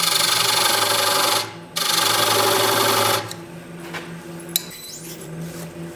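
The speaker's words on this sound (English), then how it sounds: "I'm going to just take a parting tool and make a little detail on the bottom of this" Parting tool cutting a small detail into the bottom of a turned wooden bowl on a lathe, a dense scraping hiss with a brief dip partway through, then stopping after about three seconds and leaving a quieter hum with a sharp tick.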